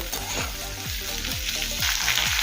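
Chopped onions and capsicum sizzle steadily in a hot pan for a chilli chicken gravy, a bright continuous crackle with repeated scraping strokes of a spatula.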